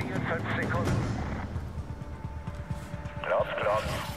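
Artillery fire in the Medal of Honor video game, heard as deep booming rumbles and rolling low blasts under German radio-style voices and battle noise.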